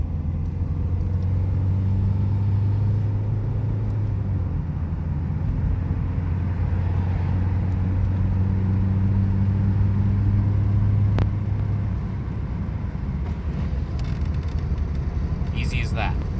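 A first-generation Subaru Legacy engine runs with its intake silencer removed, giving a loud, steady low induction drone and rumble close by that holds for the whole stretch with only slight swells.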